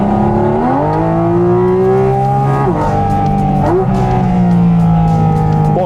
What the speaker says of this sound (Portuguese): O som do carro é espetacular, né? É maravilhoso. Olha o ronco do motor